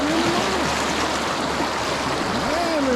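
A swift creek running high after heavy rain rushes steadily nearby, a constant broad roar of water with a faint whistling tone drifting over it now and then.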